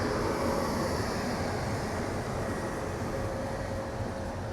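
The Rapti Sagar Express, pulled by a modern locomotive, runs at speed with a steady loud rumble and roar of wheels on rails, unbroken throughout and heard from inside the train.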